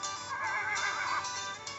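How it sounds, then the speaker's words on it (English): A horse in a cartoon adventure scene lets out a short, loud, wavering whinny that rises and falls over under two seconds, heard alone and close. "We found all the horses before the bandits did."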